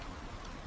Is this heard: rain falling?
yes